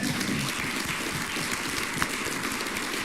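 Dense, steady applause from an audience, heard at moderate distance as a continuous wash of claps with no clear voices.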